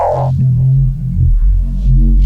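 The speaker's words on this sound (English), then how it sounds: "a Neuro bass that is built specifically from a sine wave" A neuro bass synth patch built from a sine wave, processed with filtering and compression, plays a heavy, sustained low growl with shifting harmonic texture, loud and alone with no talk.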